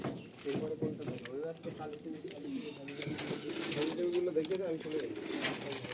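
Several high flying pigeons coo in a loft, a steady layered murmur of warbling calls running throughout, with people talking over them.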